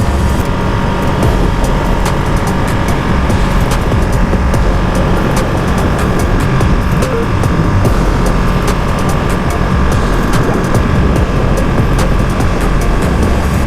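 A Ducati Panigale V2 motorcycle engine runs with a loud, continuous droning roar that holds steady throughout, close to the listener and with no talk.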